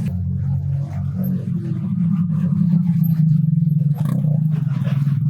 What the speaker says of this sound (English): Look at those vehicles, bro.